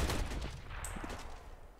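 Gunfire rattles in a Counter-Strike tournament match on the Train map, quiet bursts of shots over a low background with a sharper crack near the middle.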